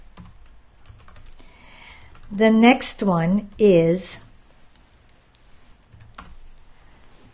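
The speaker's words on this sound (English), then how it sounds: "bear with me guys while I'm typing." Fingers type on a computer keyboard in soft, scattered clicks, with a person briefly speaking over the keys partway through.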